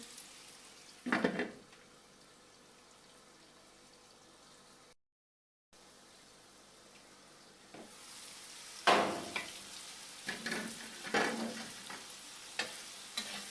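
Egg bhurji fries in a pan with a low sizzle, punctuated by scattered spatula scrapes and clinks that grow busier in the second half, close, with a short silent gap midway.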